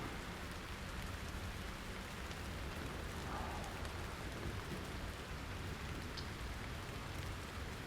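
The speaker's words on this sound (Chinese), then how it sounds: "外面下雨下得这么厉害，看来我们要在这里休息1个晚上。" Heavy rain pours steadily outside, heard from inside a cave, a dense unbroken hiss of drops drumming on surfaces, with no voices.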